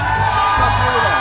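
A dense, continuous burst of crowd cheering and applause fills a live stage show, loud and steady throughout with whoops rising above the din.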